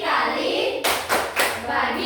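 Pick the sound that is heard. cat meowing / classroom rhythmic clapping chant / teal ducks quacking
classroom rhythmic clapping chant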